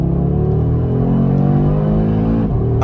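An Audi RS3 8Y, 401 hp quattro, pulling away from a standstill with a slight turbo lag, its engine note a loud close rumble rising steadily in pitch with a brief dip near the end.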